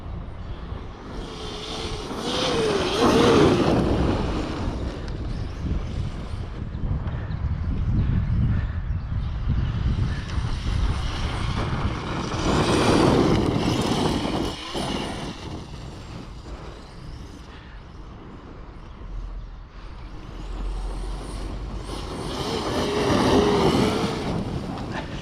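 An ARRMA Outcast 16s RC car with a 530kv motor runs at full throttle on straights, its electric whine rising and falling in three long passes, loud up close, then fading, with wind noise throughout.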